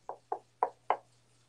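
Four sharp knocks on a wooden surface, evenly spaced and close, with a faint steady hum behind them in an otherwise quiet room.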